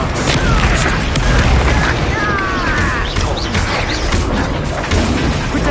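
A fire spell is cast in the Hogwarts Legacy video game, a loud, dense burst of magical effects that stays steady across the whole stretch, with brief whooshing streaks among the continuous game noise.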